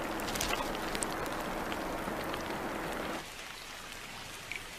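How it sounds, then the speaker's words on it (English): Heavy monsoon rain on Christmas Island pours down steadily in a dense hiss of drops, easing slightly to a softer patter near the end. "That call comes with the first of the monsoon rains."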